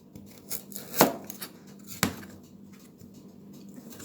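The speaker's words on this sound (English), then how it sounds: "So I'll just go down like this with a knife in a downward motion." A knife slices down the grooves of a pumpkin for a Jamaican-style chicken soup, giving a couple of sharp cutting clicks against a board plus softer scraping strokes, close and clear with no talking.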